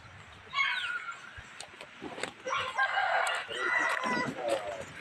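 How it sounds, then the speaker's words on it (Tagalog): Chickens and a rooster crow and cluck outdoors in the Philippine countryside, with several calls overlapping at moderate distance over about five seconds, some other birds in the background. "May mga manok."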